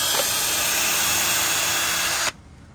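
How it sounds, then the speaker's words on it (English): A power drill whines steadily at high speed, drilling holes through thick metal for a couple of seconds before abruptly stopping. "we've got to drill out the holes so we can mount it on the kit"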